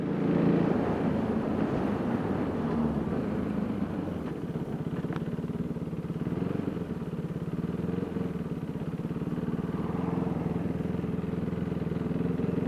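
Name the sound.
KTM Duke 390 motorcycle riding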